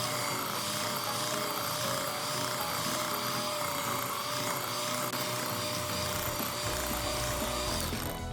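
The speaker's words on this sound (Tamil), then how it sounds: "பவுலில் மார்ஜரினை போட்டு பீட்டரோட நல்லா அடிச்சிடுங்க." A steady, loud electric motor whine runs throughout with a busy mechanical hum, an electric hand beater whipping margarine in a bowl at high speed, with no voices.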